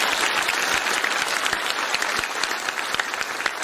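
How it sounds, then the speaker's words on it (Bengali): A crowd at a motivational speech claps loudly and continuously, a thick wash of many hands with sharp individual claps popping out, holding strong from start to finish without talk. "তাহলে জোরে ফাটিয়াটা হাততালি দিয়ে বুঝিয়ে দিই"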